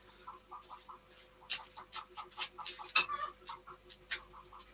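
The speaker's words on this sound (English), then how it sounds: "when you're hearing chickens there" Chickens cluck in a quick irregular series of short, fairly faint calls with a few louder squawks, set against a quiet steady background hum.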